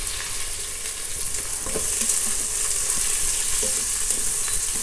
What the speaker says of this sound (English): Stir fry the onions.